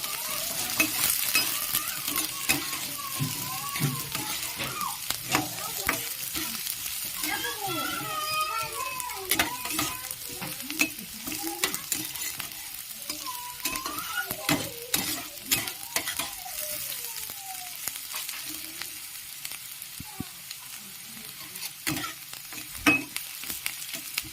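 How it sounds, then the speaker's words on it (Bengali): Chopped green chillies fry and sizzle in a pan with steady crackle and stirring scrapes, voices talking over the cooking throughout. "একদম হালকা লাল করে ভেজে নেব।"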